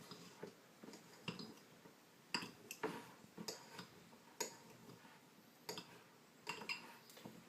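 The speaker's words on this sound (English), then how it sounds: "so now we have a bunch of avocado quarters in the bottom of a bowl. And I just chop them up like this" A knife chops avocado quarters in a bowl with a run of faint, irregular taps and clicks against the bowl, some hits quick and doubled, with no talking.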